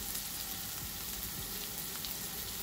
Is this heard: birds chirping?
no